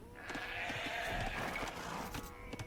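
Sheep bleating in the real-time strategy game Age of Empires, a steady chorus of wavering bleats from several animals layered over game ambience, fairly loud and continuous without talk.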